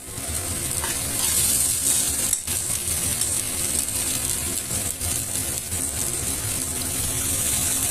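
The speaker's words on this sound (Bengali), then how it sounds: "তারপরে দিয়ে আমি খুব ভালো করে মশলার সাথে মিক্স করে দিব" Green peas being stirred with spices in a hot pan while cooking a wedding-style peas and paneer curry, a steady close sizzle with scraping stir strokes running continuously throughout, with no talking.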